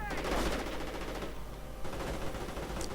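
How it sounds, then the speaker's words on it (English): Sniper gunfire in a war video game, sharp shots sounding over a dense, constant roar of battle noise that fills the whole short stretch. "Sniper continuing to fire away."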